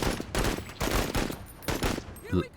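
Weapon fire in the video game MENACE, several bursts of rapid crackling shots separated by short gaps, close and punchy, with a brief voice near the end.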